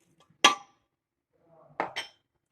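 Ingredients for Lahori beef paya, including beef trotters, onion, tomato, ginger and garlic, dropped into a pressure cooker, giving one clattering clink and then two quicker clunks after a pause, fairly close and quiet.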